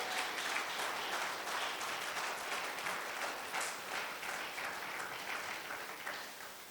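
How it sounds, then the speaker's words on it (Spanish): A church congregation applauds during a Spanish-English service, with a steady wash of dense claps that is fairly faint and distant and eases off slightly toward the end. "Dele ese aplauso más fuerte a Cristo"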